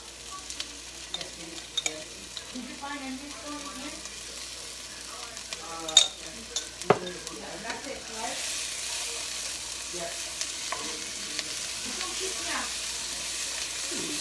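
Bagoong shrimp paste with pork frying for Bicol Express, a steady low sizzle with scattered clinks and scraping stirs, close by and moderately loud, with no talking.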